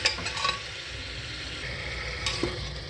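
Mutton frying in a pan with turmeric and salt, stirred with a utensil, giving a steady close sizzle with occasional scraping clinks against the pan.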